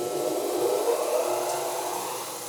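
A Powermatic bandsaw runs with a steady, close whir and broadband hiss that holds level throughout, with no talking.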